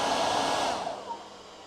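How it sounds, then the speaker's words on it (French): A hair dryer drawing just over 1000 watts from a StorCube portable solar battery blows with a steady, loud broadband whoosh that softens and drops in level partway through, leaving a quieter hum. "le sèche-cheveux fonctionne pas de manière optimale"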